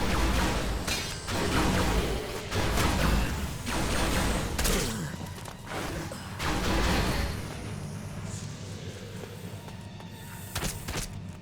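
Laser rifle firing in the game ELEX, several short bursts of sharp zapping shots with thumps between, loud and close, followed by a quieter stretch with a few faint clicks.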